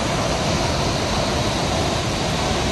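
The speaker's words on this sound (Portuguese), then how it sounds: "o que eu vou mostrar pra vocês, ó, é essa cachoeira aí" Waterfall at Salto Barão do Rio Branco in Prudentópolis, heard as a loud, constant, dense roar of falling water with no break and no voices.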